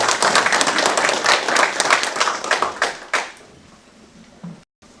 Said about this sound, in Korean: 먼저 힘찬 박수 한번 쳐주시면 감사하겠습니다.